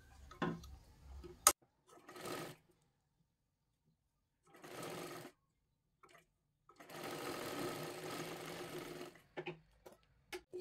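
A domestic sewing machine stitches blouse lining in three short runs, the last and longest lasting about two seconds, with clear silent gaps and small handling clicks between them.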